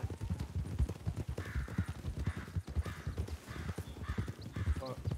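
A horse walks in a Western ranch roleplay game, its hooves clip-clopping in a steady, moderately paced rhythm at medium distance beneath faint voices and background game ambience.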